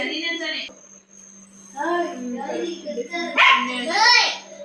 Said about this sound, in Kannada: ಫ್ರೆಂಡ್ಸ್ ನಮ್ಮ ನಾಯಿ ಮರಿ ನೋಡ್ರಿ